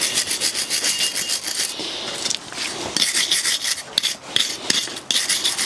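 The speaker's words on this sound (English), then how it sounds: "We can now get the caliper bracket cleaned up, both where the pads make contact with and also the mating surfaces as well." Continuous rasping scrub of a wire brush or file cleaning a BMW F20 brake caliper bracket's pad contact and mating surfaces, close and steady with brief pauses, no talk.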